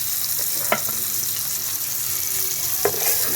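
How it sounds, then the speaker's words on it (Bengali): Turmeric, chilli powder and a little sugar fry in oil for a fish and broccoli curry, a constant close sizzle broken by two sharp spatula scrapes, no voices. "ভালো করে মশলাটা কষিয়ে নেব"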